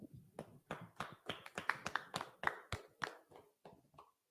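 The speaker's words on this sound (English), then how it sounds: "Let's clap it up." A small group at a class gathering claps in distinct, fairly sparse hand claps, a loose irregular rhythm of separate sharp hits that tapers off near the end.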